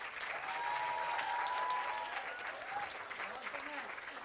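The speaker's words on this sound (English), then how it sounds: "The clap should go on." Applause from an audience at an award lecture ceremony keeps going, steady crowd clapping with a voice speaking over it.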